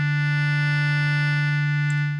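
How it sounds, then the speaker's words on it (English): A Sugar Bytes Cyclop synth holds a sustained, buzzing distorted tone through the distortion module acting on filter 1, steady and loud for about two seconds before tailing off. "So now you're distorting filter 1."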